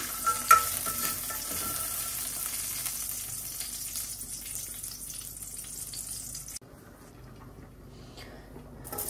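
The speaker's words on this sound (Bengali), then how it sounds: "ডালের বড়াটা ভেজে নিচ্ছি।" Lentil fritters frying in oil, a continuous close sizzle and crackle with occasional stirring, dropping abruptly quieter near the end, with no talking.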